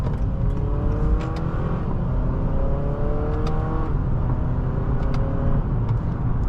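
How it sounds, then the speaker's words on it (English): 2018 Honda Accord Sport with a 2.0-liter turbo four, heard from inside on a test drive: a steady engine hum with rising whine through shifts as it accelerates, over road noise. "The engine sounds really good, actually."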